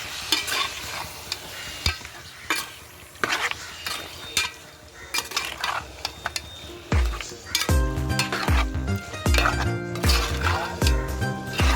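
Gongura chicken curry is stirred in a pot with a metal spoon, giving irregular clanks and scrapes over a soft sizzle, with background music rising in the second half.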